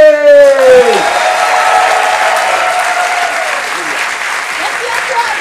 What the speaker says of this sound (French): je vous demande de faire un tonnerre d'applaudissements pour celle qu'ici tout le monde connaît, Jeanne Chartier